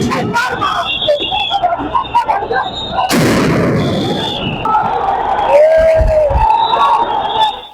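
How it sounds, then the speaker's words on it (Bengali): Police use sound grenades and water cannon to disperse a protest crowd of Islami Bank customers in Dhaka's Dilkusha area. A sharp, loud bang bursts out amid continuous crowd shouting and babble, followed by rushing noise. "তাদের ছত্রভঙ্গ করতে লাঠিচার্জ করে পুলিশ, ব্যবহার করা হয় জলকামান ও সাউন্ড গ্রেনেড।"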